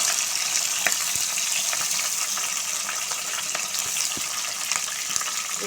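Onions frying in hot oil with curry leaves, a dense, steady sizzle filling the whole stretch, close and fairly loud with faint scraping stirs now and then.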